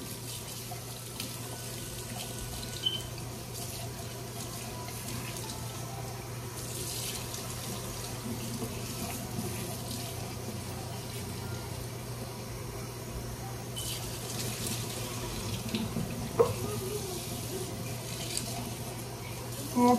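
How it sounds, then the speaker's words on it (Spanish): Cold tap water runs steadily into a kitchen sink to rinse strawberries, a continuous close splashing and gurgling with small shifts as the fruit moves under the stream. "vamos a lavarlo con agua helada"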